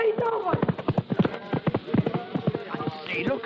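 Horse hooves clip-clop at a quick, irregular trot as the animal rides off in an old radio drama effect, close and distinct, with a voice speaking over the hoofbeats.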